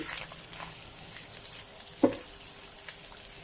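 A chicken dish simmers in a pan, giving a steady low bubbling sizzle throughout with one brief louder clink of a utensil partway through.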